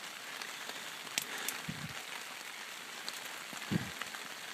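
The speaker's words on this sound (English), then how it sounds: "And we're back to rain again." Rain falling outside a trail shelter, a steady hiss of drops pattering on surfaces, with scattered sharper taps and a couple of low thumps, moderately loud and continuous.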